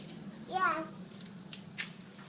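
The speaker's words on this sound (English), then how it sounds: "I think it's called a cicada." A cicada gives a faint, steady, high-pitched buzz that continues throughout, with a child's short vocal sound heard briefly near the start.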